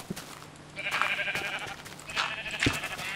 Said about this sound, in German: Alter, ihr scheiß Schafe,